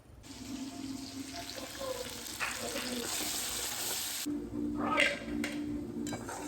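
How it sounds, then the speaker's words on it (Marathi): Homemade red chili masala frying in a pan with a splash of water: a steady, close watery hiss with scattered crackles and spurts that flare briefly toward the end, and no talking. "थोडस पाणी टाकून मस्त असा हा मसाला फ्राय करून घेते"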